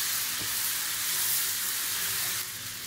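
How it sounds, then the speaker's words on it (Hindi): Green chili and garlic paste hits hot oil in a pan while a Punjabi cheese butter masala is being made, giving a bright, continuous close-up sizzle and hiss that eases slightly near the end. "अब इसमें हरी मिर्ची और लहसुन का पेस्ट है वो डाल देंगे"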